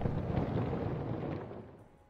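A deep, rumbling cosmic explosion effect roars loudly and densely from the start, a broad low-heavy boom that holds for over a second and then slowly fades away, with no voices.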